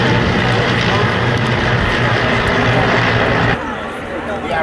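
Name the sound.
Tiger Moth biplanes flying past in formation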